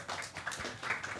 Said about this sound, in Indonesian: Tepuk tangan dulu dong buat teman-teman di Unsur.